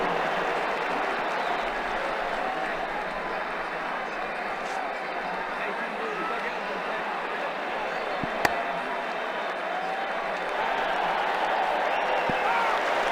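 A cricket crowd applauds a boundary in Ashes Cricket 2009, a steady bed of clapping and cheering from the stands, continuous and moderately loud under a commentator's voice.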